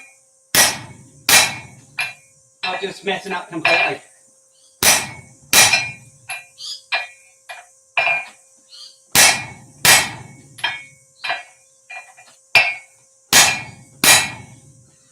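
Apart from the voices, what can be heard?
hammer striking hot metal at forge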